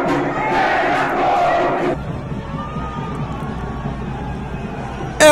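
A Grêmio football crowd roars and chants as Renato Portaluppi greets the fans, a loud massed cheer for about two seconds that drops to a lower distant crowd murmur.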